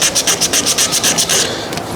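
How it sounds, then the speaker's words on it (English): A car wheel is sanded by hand in quick back-and-forth strokes, about a dozen loud, close rasping rubs in a steady rhythm that slows and fades near the end, with no talking. "we're just going to get right to it with the sanding"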